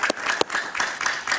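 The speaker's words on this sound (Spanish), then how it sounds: "lo recibimos con un aplauso" Studio audience on a Spanish-language talk show clapping to welcome a guest, brisk applause with a few sharp individual claps standing out, close and lively with no talk over it.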